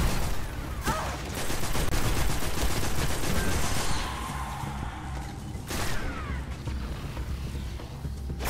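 Rapid video-game gunfire from Destiny 1 co-op play, sustained bursts of machine-gun fusillade at close range with crashes and booms, loud and continuous for the whole stretch.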